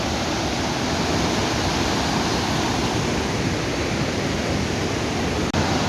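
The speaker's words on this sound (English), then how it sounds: "As far as you can see, you see waterfalls only, around 280 of them." The Iguaçu waterfalls in Brazil, a long stretch of around 280 falls, pour with a dense, continuous roar that stays loud and even throughout, with a single short knock near the end.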